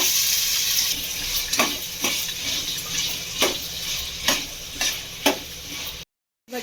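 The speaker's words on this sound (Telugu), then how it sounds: "ఇవి కూడా ఈ ఆయిల్లో కొంచెం ఫ్రై అవ్వాలి బాగా" Washed, cut radish pieces frying in hot oil, a loud continuous sizzle with regular spatula knocks as they are stirred, cutting to silence near the end.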